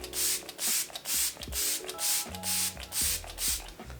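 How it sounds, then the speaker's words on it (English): Smashbox Photo Finish Endurance Breathable setting spray spritzed in about seven quick, close hissing bursts, uneven in length and spacing, with no talking. "It's a little bit of a aggressive spritzer and it's not very consistent."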